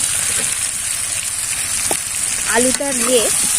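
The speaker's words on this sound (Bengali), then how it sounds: "আমি ভেজে রাখা আলুটা দিয়ে দেব" Fried potatoes go into chicken curry sizzling in a pan, giving a steady close frying hiss with a brief clatter and louder crackle as they land and are stirred.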